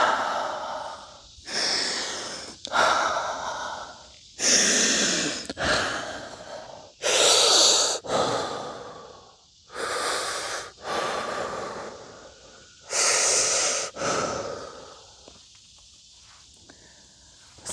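Slow, deep breaths during fascial self-massage, heavy inhales and exhales repeating in a steady rhythm about every one to two seconds, close to the microphone with no talking.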